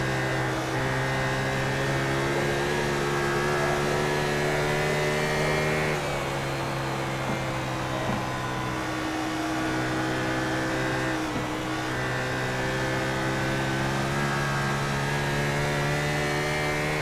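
An onboard race car engine in a racing video game drones steadily, its pitch dipping and climbing as revs shift through corners, loud and continuous with no voices.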